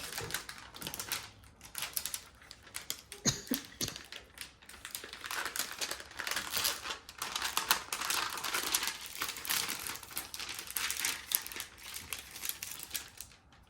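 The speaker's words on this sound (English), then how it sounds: "so we would fold that row back, just like we did over on the other side" A row of canvas being folded back, giving a long, steady run of close crinkling, rustling and light tapping with no speech.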